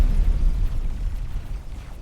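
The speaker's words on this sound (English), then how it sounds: "That was a missile" A dumbfire missile explodes in the space game X4 Foundations, a heavy low boom that rolls into a rumbling decay lasting about two seconds.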